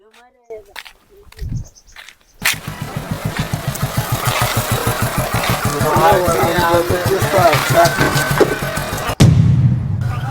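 A motorcycle engine starts after a few knocks and idles steadily with a pulsing, throbbing rhythm, close by, then cuts off abruptly near the end.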